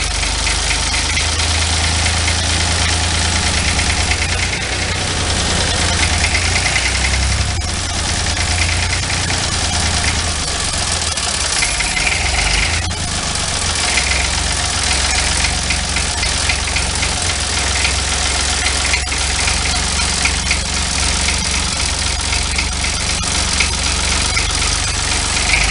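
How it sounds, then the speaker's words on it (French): Renault D30 tractor engine idling steadily, a continuous low mechanical chug with a slight knock, close and even throughout with no speech. "il faut accélérer, pour ne plus avoir les témoins, et entendre que le moteur est un ralenti correct."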